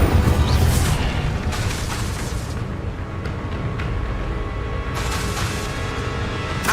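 In Hogwarts Legacy, an Incendio fire spell blasts with a heavy boom, followed by more bursts. They sit in a loud, dense wash of combat noise.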